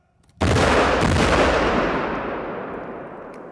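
A Swedish dynamite charge blasting a tree down: one sudden, very loud, close explosion that booms and rumbles, then slowly decays over several seconds.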